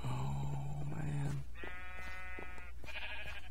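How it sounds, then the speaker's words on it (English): Sheep bleating in the video game Minecraft, several short tonal bleats in sequence over steady low game background noise, with no one talking. "Quiet, Mr. Sheep."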